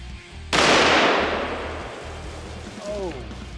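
A single loud, close gunshot from a large-calibre handgun fired outdoors, cracking sharply and then rolling off in a long echoing decay, followed by a faint whistling tail.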